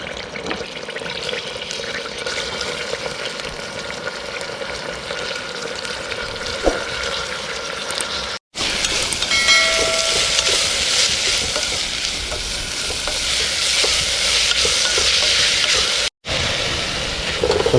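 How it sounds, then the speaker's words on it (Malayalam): Chopped tomatoes frying and being stirred in a pan, a continuous sizzle with scraping stir strokes and watery bubbling, cut by two brief silent gaps, with no voices. "തക്കാളി ഇട്ടു, ഞാൻ ഇങ്ങനെ ഇളക്കിക്കൊണ്ട് നിൽക്കുകയാണ്"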